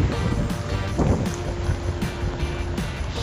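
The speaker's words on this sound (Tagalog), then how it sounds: "Lakas ng hangin." Steady gusty wind roaring across an open microphone, with rumbling low buffeting and occasional stronger gusts throughout.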